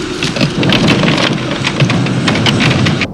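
A loud electric thunderstorm with heavy rain hissing on surfaces and rolling thunder beneath, sustained and close, cutting off abruptly at the end.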